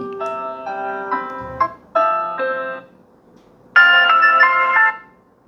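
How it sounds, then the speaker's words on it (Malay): A bright electronic ringtone from a Redmagic 10 Air phone plays at maximum volume through its speakers in three melodic bursts, loud and clear, separated by short pauses. "Okey ringtone ni."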